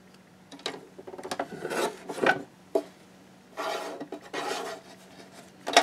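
A 12 x 12 card stock sheet being cut, heard as several separate short rasping, scraping strokes with quiet pauses between them, close and fairly soft.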